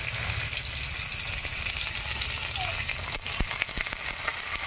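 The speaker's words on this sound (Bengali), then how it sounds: "তেল গরম হয়ে গেছে, চলো আমি পেঁয়াজটা দিয়ে দিলাম।" Sliced onion dropped into hot oil in a wok for a fish curry, a continuous close sizzle with crackling that turns sharper and more uneven near the end.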